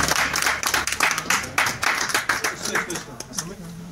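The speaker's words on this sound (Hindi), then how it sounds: "जोरदार तालियां, जोरदार तालियां" Bursts of clapping from a group at an award ceremony, uneven and rhythmic in places, with a voice speaking over the applause.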